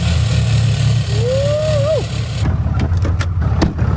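A 6.7 Cummins diesel truck idling in chilly outdoor air, a steady low rumble heard close throughout, with a brief rising whine partway and a few sharp clicks near the end.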